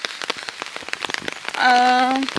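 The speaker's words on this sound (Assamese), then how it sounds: "বৰষুণটো পটককৈ আহি গ'ল সেইটো কাৰণে ছাতিটো লৈ আহিছোঁ" Rain patters sharply on a nearby surface, irregular drops tapping, while a voice speaks briefly near the end.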